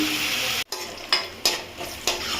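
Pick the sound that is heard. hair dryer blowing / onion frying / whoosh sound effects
onion frying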